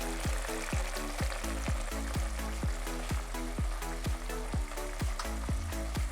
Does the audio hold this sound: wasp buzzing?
no